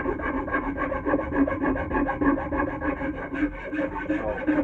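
A Nicholson rasp works over a wooden axe handle near the palm swell, smoothing gouges: a close, steady rasping of repeated back-and-forth strokes that never stops, with no talking.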